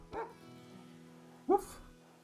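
Dog-like creature cry from a Pokémon video game, two short yipping barks about a second apart, the second louder, over a quiet steady background hum.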